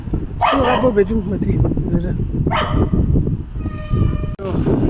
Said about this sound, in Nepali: कुकुर पनि भुक्दैछ।